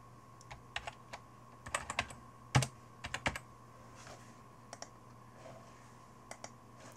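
Keys tapped on a computer keyboard while a password is typed, in scattered short clusters of quiet clicks with pauses between, fairly close over a low steady hum.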